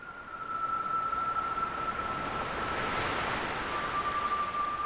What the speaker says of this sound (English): Can you hear the waves whispering distant words?